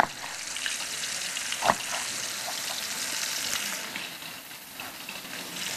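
Chicken wings fry in hot oil with a steady, close crackling sizzle and one brief sharper pop partway through, running alone with no voices.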